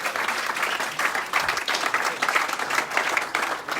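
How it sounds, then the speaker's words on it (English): A crowd claps for sponsors at a St. Louis vehicle presentation to veterans, a dense, continuous ripple of applause with slight swells, heard from a middle distance and with no voices over it. "A round of applause for our Level 1 partners."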